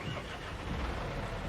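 A tractor engine in Farming Simulator 22, a soft steady rumbling drone at low level, continuous with no distinct revs and no talking.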